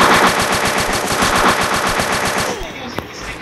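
Rapid automatic gunfire from a Mini Uzi in the Free Fire battle royale game, a loud, fast burst of evenly spaced shots for about two and a half seconds that then cuts to near silence with one faint pop.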